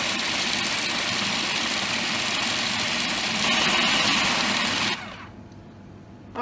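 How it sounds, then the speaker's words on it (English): Food processor whirring on high speed while blending basil pesto with garlic, salt and pepper, a close, dense buzzing motor that runs steadily for about five seconds and then cuts off. "Now just place the lid on your food processor"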